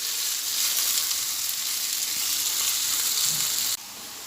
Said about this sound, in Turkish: Sürekli karıştırmaya devam ediyoruz.